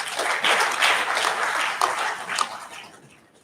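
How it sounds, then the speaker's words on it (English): Applause fills a political parties' summit opening session as a round of clapping greets the Inter-Party Advisory Council chairman at the high table, loud and dense at first and then gradually fading out. "Please encourage him with a round of applause."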